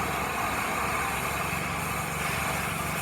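An oxy-acetylene torch cuts through metal with a loud, continuous roaring hiss, close and steady throughout.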